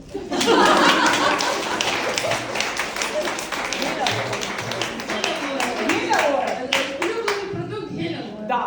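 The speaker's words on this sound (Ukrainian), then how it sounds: "Отут от аплодисменти." Applause during an interview in Kharkiv, a steady stream of close hand claps mixed with chuckles and people talking over it.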